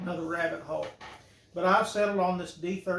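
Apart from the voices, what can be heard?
No everyday noise stands out behind the speech.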